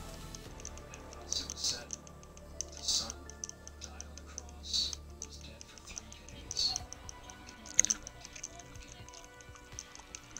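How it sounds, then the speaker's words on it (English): Quick, faint clicking of a computer keyboard being typed on, light irregular taps running beneath louder game sounds and background voices. "I swear you just typed faster."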